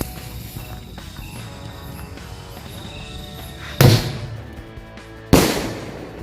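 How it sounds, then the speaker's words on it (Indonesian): Rawana firecracker (mercon) set off at night, two sharp loud bangs about a second and a half apart, each with a short echoing tail, over quiet background noise. "lanjut ini kita nyalain mercon rawana"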